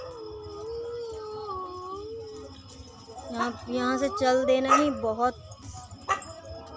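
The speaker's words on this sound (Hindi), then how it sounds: "जब भी कुछ होता है तो कुत्ते भौंकने लग जाते हैं यहाँ पे ज़ोर ज़ोर से।" Dogs howl in long wavering tones at night in a wooded area, then break into loud overlapping barks and yips nearby, while someone speaks briefly over them.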